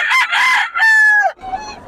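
A rooster on a farm with many chickens crows loudly and close by, one long strained call with a rising then falling tail, followed by softer clucking and rustle.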